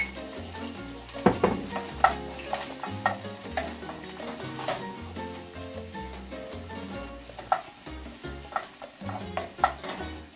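Chopped onion frying in a tablespoon of olive oil, a steady sizzle with repeated scrapes and clinks of a utensil stirring the pan, close and continuous, no talking.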